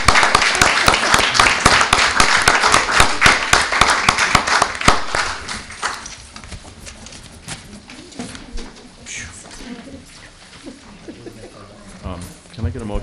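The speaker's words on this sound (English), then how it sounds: "I think that deserves a round of applause" Applause at a town council meeting, a burst of many hands clapping in a room for about five seconds, then fading into quieter murmuring and speech.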